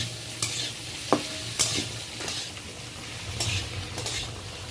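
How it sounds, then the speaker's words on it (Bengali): Onion and tomato frying in a pan for chicken do pyaza, stirred in several distinct scraping strokes over a constant close sizzle, with no talking. "এই দেখুন, পেঁয়াজ টমেটোটা একটু হালকা করে নেড়ে নিচ্ছি।"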